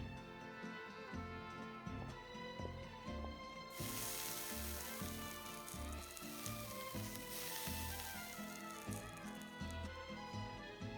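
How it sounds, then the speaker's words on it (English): Fish sears on hot armor in the video game Genshin Impact, a steady crackling sizzle that flares louder partway through, played over game background music. "It's great for fish because you can get a nice sear on one side without overcooking the other."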